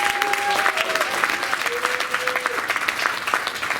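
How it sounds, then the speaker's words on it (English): A crowd applauds Janice at a Langston Hughes oratorical contest, dense sustained clapping filling the hall throughout, with a faint voice or tone briefly audible early on. "a big round of applause for Janice"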